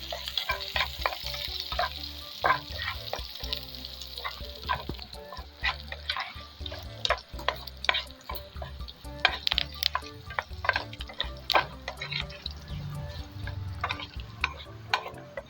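Curry leaves and chicken sizzle in a frying pan under a steady crackle, with frequent sharp pops and stirring clatters scattered irregularly throughout, no talking.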